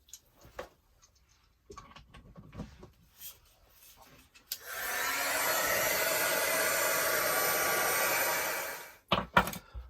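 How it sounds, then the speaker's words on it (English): A heat gun switched on for a craft art tag project, a loud, steady close blowing roar lasting several seconds, preceded by clicks and handling and cut off abruptly. "All right, heat gun unplugged again. All right, let's get it plugged in."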